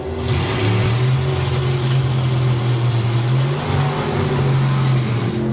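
Drag racing car at a motorsport festival launching as its throttle stop releases, a loud roaring engine that holds a strong sustained note and surges, heard from the sidelines.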